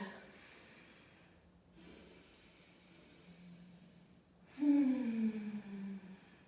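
Slow breathing during a yoga pose in a Padmasana power flow, soft airy breaths close to the mic, ending in a louder, voiced exhale.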